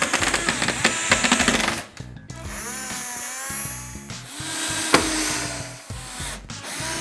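A power drill drives small screws into thin wooden crate boards, with repeated bursts of whirring motor and short rising and falling runs broken by brief pauses, close and fairly loud with no talk.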